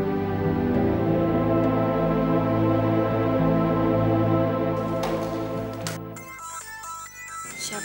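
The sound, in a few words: phone ringtone, incoming call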